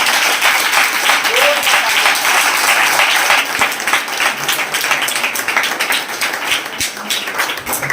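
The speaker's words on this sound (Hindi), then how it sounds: "पवित्र आत्मा के लिए जोरदार ताली बजाएं।" A church congregation applauds loudly and steadily for the Holy Spirit, a dense, continuous wash of clapping that fills the room, easing slightly toward the end.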